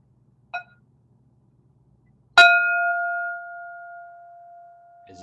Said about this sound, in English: here comes first bell